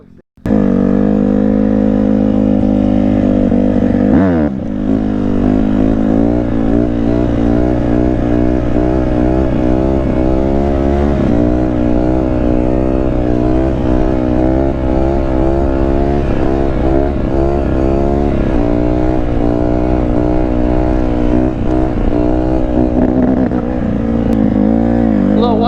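A motorcycle engine runs steadily at a high idle, its low rumble continuous throughout, with someone talking over it.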